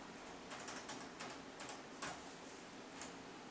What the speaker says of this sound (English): we're just going to type that into the computer